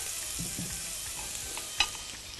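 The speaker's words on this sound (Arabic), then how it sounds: "انا عايزه احمر الثوم مع الفلفل" Garlic and peppers fry in a pan for a grilled tomato salad, a steady soft sizzle with faint stirring and one brief sharp clink near the end.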